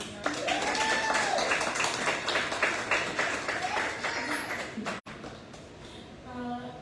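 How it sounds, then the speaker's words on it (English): An audience at an evening poetry event gives a sustained round of applause, dense clapping that fills the room for several seconds before thinning out, with a voice coming in near the end. "Can we start with giving each other a round of applause?"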